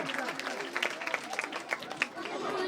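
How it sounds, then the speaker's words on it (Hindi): Audience at a gathering claps for the chief guest, scattered close hand claps with a crowd murmuring underneath, fairly faint. "इनके एक बार जोरदार ताली बजाएं।"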